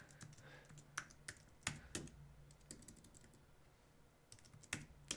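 Keystrokes on a computer keyboard tap out in scattered clusters of sharp clicks, close and fairly quiet, over a low background hum with no talking.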